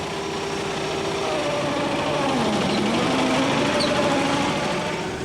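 A small 13 hp Kubota engine drives a miniature Land Rover replica, running steadily with a continuous buzzing drone whose pitch dips and rises slightly, close and fairly loud throughout.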